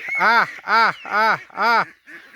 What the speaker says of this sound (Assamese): হাঁহবিলাক আহি আছে